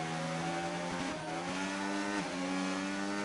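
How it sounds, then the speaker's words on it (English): A Formula 1 car engine in a racing video game at Belgium roars and drops in pitch under hard braking, with low-grip tires squealing against the surface, steady and close. "The sound you hear on the braking, the tires,"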